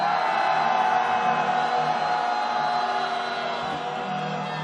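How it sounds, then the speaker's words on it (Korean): A candlelight protest march crowd cheers and shouts together in a sustained, loud roar of whoops and yells, steady from start to finish. "힘찬 박수와 함성을 한번 질러보겠습니다"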